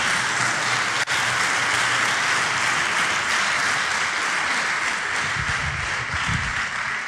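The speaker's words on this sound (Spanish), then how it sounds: "Dele un aplauso fuerte al Señor." A congregation at a church service claps loudly and steadily, a dense sustained round of applause filling the room, with a sharp knock near the start and a few voices faintly underneath.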